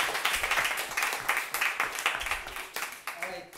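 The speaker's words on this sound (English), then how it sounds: "big applause to everybody" Applause and clapping from a small group at a coding workshop, steady and fairly close, with some voices mixed in beneath the claps.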